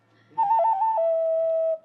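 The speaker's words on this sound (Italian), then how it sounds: "naturalmente c'è questo fischietto" A cucù, a traditional Italian clay toy whistle, is blown once in a close, clear tone that wavers briefly at the start, then holds steady for over a second before cutting off.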